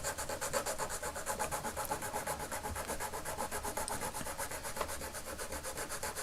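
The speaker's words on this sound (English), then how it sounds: "I'm going to carefully file around and we'll see what we can make." A hand file works down a plastic part from a vintage Kenner Star Wars speeder bike toy, giving a steady run of quick, even rasping strokes, close but fairly quiet.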